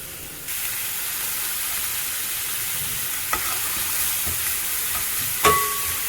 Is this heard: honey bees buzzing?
no